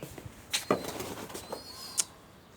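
Pigeons landing at their loft, with several sharp bursts of flapping wings spaced across the moment and soft cooing in between, close and moderately loud.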